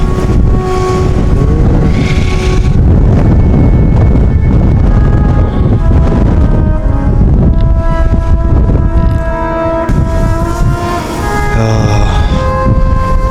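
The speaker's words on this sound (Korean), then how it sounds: "바람 엄청 세게 부네요" Strong wind roars across the 1244 m summit of Minjujisan during a cold night hike. It buffets the microphone loudly and unevenly in heavy, continuous gusts.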